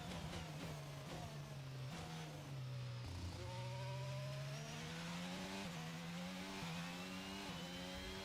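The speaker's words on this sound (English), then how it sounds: "Here's the safety car" A Formula 1 safety car engine in F1 22 drones at a steady mid pitch, its note rising and dipping with gear changes and throttle, fairly faint and alone.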